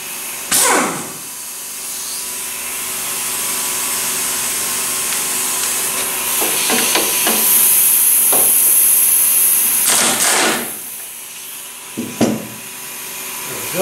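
A pneumatic air impact gun on a zero-turn mower deck fires several loud, rough bursts to free a pulley, each a few seconds long, with short pauses between them and a hissing whine at the loudest point.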